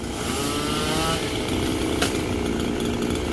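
A chainsaw runs loud and close, its engine revving and buzzing as it cuts a tree branch near power lines, with a brief sharp crack partway through.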